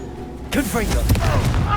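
A Confringo fire-blast spell in Hogwarts Legacy bursts out abruptly as one broad, loud blast, layered under a character's spoken voice and lingering as a rumbling wash.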